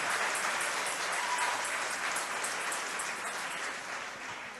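An audience at a Catholic charismatic renewal gathering claps in a dense, steady patter of applause that slowly fades over a few seconds.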